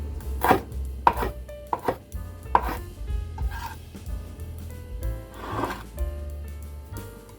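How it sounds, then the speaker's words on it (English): A knife slices through fresh basil on a cutting board in a few soft, irregular chops and scrapes, close and fairly quiet, with some light rubbing between strokes and no talking. "And I'll just slice up our fresh basil."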